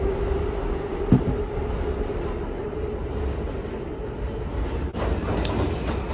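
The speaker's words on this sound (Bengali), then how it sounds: "আমাদের ট্রেন চলে এসেছে।" A New York City subway train pulls into an underground platform on the A, C, E line, with a loud continuous rumble, a sharp clank near the start and rising screech near the end.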